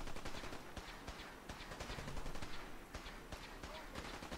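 A laser rifle or laser pistol fires in rapid bursts during a Fallout 4 fight, as a fast crackling string of shots, faint and somewhat distant, with short pauses between volleys.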